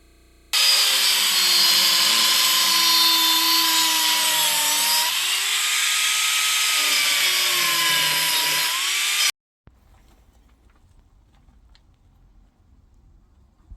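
A power tool cutting a jigged part for a Mk1 Cortina GT, a loud, close whine held for about nine seconds with its pitch shifting under load, then stopping abruptly, leaving low workshop quiet.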